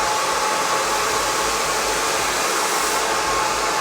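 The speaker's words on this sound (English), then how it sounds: "I have my heat back on the blow dryer. It's on high and it's on hot." A handheld blow dryer runs on its high speed and hot setting, giving a loud, steady, unbroken whoosh of air from start to finish with no talking.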